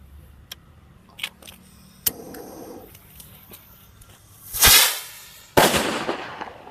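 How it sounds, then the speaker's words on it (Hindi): A Cock brand rocket firework lights and launches during Diwali cracker testing, with a few small crackles and pops, then a loud whooshing burst near the five-second mark and a second sharp blast that rings out and fades. "अब हम लोग के पास रहा सिंपल वाला कॉक ब्रांड का रॉकेट"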